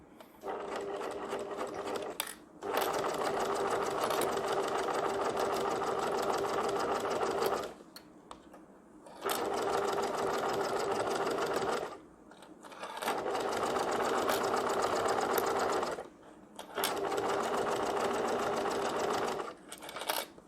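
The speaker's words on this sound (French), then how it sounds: "Donc là, je vais coudre jusqu'à la fin du tissu." Sewing machine stitching a zipper onto fabric for a beginner's school pencil case, running in four long steady bursts of rapid mechanical stitching separated by brief pauses.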